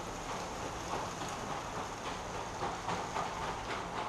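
Heavy rain pours in a dense, loud, steady roar with faint rhythmic pulses, constant throughout and without talk.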